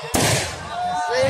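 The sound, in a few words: firecracker going off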